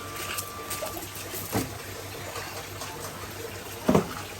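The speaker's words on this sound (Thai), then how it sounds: "โรงเรือนนี้จะมี น้ำตกเพิ่ม" A small waterfall in a plant greenhouse gives a soft continuous trickle and wash of water, with a couple of brief louder splashes nearby.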